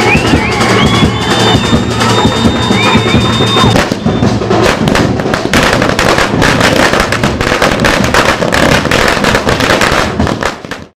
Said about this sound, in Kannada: ನೂರಾರು ಅಭಿಮಾನಿಗಳು ಪಟಾಕಿ ಸಿಡಿಸಿ ವಿಜಯ್ ಕಟೌಟ್ಗೆ ಹಾಲಿನ ಅಭಿಷೇಕ ಮಾಡಿ ಸಂಭ್ರಮಿಸಿದರು.